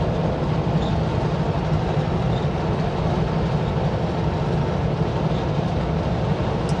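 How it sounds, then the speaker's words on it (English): A westbound freight train rumbles steadily past nearby, a continuous low roar with faint rail clatter throughout, no voices. "waiting for that train that we just passed that's going westbound"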